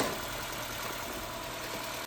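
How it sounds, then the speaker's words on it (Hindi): Honda City i-VTEC car engine idling steadily during a service, a continuous low rumble with broadband noise held at an even level throughout, no voices. "3 से 5 मिनट इंजन को स्टार्ट रखेंगे"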